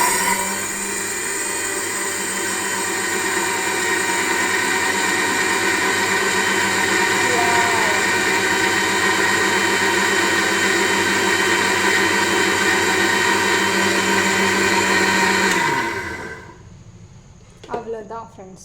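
A mixer grinder grinds sugar for chocolate decoration with a loud, steady, high whirring drone that runs for about fifteen seconds, then winds down and stops, followed by a few faint clinks.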